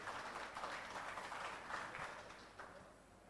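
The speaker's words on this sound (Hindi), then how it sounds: "तो जाहिर सी बात है एक बार तालियां इनके लिए हो" Audience applause for three party spokespeople seated on stage at a public forum in Dhar, Madhya Pradesh, a steady patter of many hands that swells briefly and tapers off, heard faintly at a distance.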